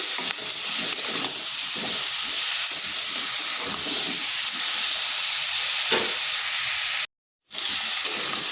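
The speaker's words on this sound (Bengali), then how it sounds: "কুমড়োটাকে অবশ্যই ভেজে নিচ্ছি" Pumpkin pieces with salt and turmeric fry in oil in a kadai. A loud, close, continuous sizzle and hiss is broken by a brief silent gap near the end.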